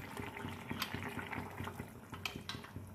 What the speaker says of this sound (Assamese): খিনিতে অকণমান গৰম পানী দি দিম ওপৰতে